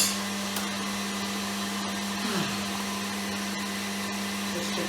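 An electric mixer beats biscuit dough with vanilla essence, a steady whirring motor hum holding one pitch throughout, with a brief dip in tone partway through as the beaters work the mixture.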